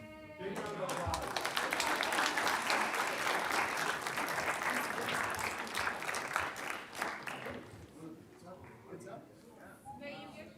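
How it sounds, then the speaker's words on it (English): Sustained applause from an audience at a fire protection district gathering, loud and dense for several seconds before thinning out into scattered claps and murmuring near the end. "Big round of applause."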